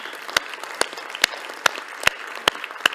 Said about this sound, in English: So please give a big applause to our three panelists here.